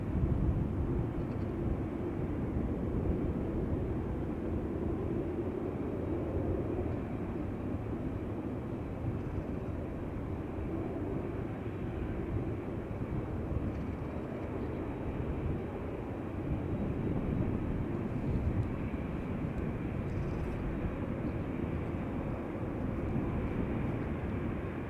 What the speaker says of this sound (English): American Airlines Flight 203 coming this way.